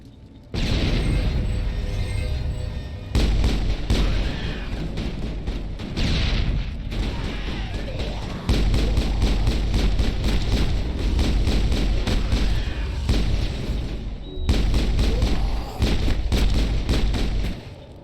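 Grenades and gunfire explode in the game Mass Effect, a loud run of heavy booms and rattling shots in several dense bursts with short pauses between them.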